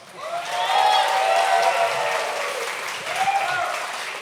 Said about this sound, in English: we got a round of applause